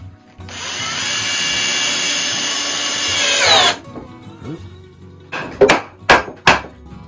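Power drill driving a screw into a mobile workbench, one steady whirring run of about three seconds, then several sharp knocks on wood, close and loud with no talking.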